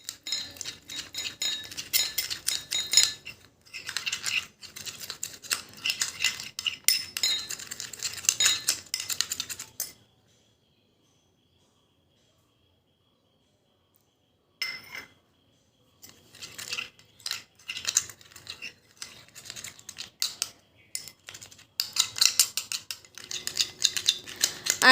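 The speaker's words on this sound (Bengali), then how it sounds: "এবার আমি এর ভিতরে অল্প অল্প করে দিয়ে দেব আলুর রস, আর মেশাতে থাকবো।" A spoon stirs a face pack of gram flour, coffee, lemon juice and potato juice in a bowl, with bursts of quick clinking and scraping, a silent gap of several seconds, then more tapping and stirring.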